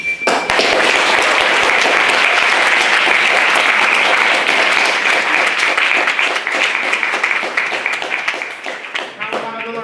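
Loud, sustained audience applause fills a debate hall after a speech on a motion about the American Revolution, dense steady clapping that thins slightly toward the end.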